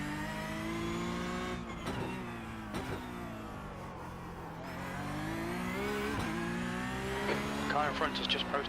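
A race car engine drones steadily in iRacing, its pitch climbing and dropping through gear changes and brief lifts, loud and continuous under someone talking.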